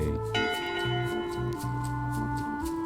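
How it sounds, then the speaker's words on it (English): A single bell strikes once in the video game Return to Monkey Island, its ringing tone sustaining and slowly fading over steady background music. "Someone rang the bell"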